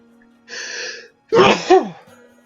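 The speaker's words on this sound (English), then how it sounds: "Why can't I stop needing to sneeze?" A man sneezes twice in quick succession from allergies, a drawn-out sharp burst followed by a louder explosive sneeze with a trailing vocal sound, close and alone.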